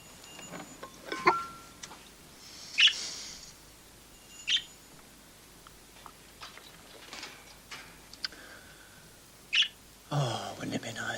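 A bird indoors in a house gives a few short, high chirps spread out over several seconds, fairly faint and separated by quiet stretches.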